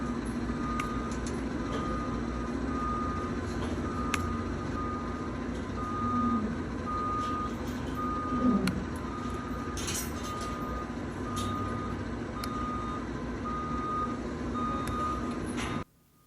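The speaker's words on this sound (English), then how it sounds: "That beeping is the backup alarm on the feed truck." A reversing feed truck's backup alarm beeps steadily at a distance, a regular series of short tones over a low engine rumble, with no talking.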